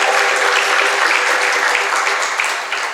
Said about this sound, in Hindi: एक बार उनकी भक्ति सम्मान के लिए जोरदार तालियों के साथ।